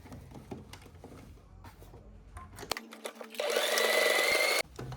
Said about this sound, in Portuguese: eu vou passar uma costura bem aqui na ponta